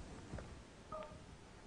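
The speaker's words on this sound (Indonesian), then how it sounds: "kita angkat telepon dulu ya." A telephone call connects on a live TVRI regional talk show broadcast, with two short, faint dialing tones over quiet background hiss.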